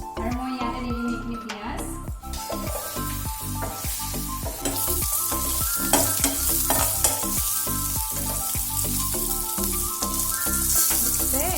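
Onions sizzle steadily in hot oil in a pan with a dried red chilli, while a spoon stirs and scrapes through them in repeated clatters, close and fairly loud for the whole stretch.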